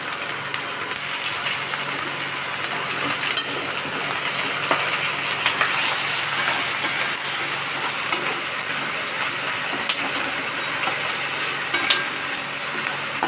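Onion paste fries with ginger in oil for a pangas fish curry, a continuous close sizzle broken by scraping, clicking stirs of a spatula against the pan, with no talk.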